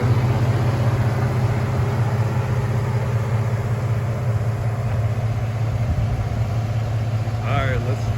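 A 1947 Ford F1 pickup truck with a 4.3 engine idles steadily, giving a continuous low rumble that stays level throughout, with a brief rattle near the end.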